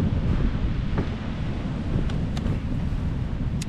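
Wind and ocean waves at the coast of Cape Lookout roar as a loud, continuous rush of surf with heavy wind buffeting the microphone and a few brief sharp clicks.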